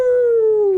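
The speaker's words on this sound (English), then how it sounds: "I howl." A single long, falling werewolf howl from the video game Werewolf Heart of the Forest, loud, clean and tonal, lasting under a second.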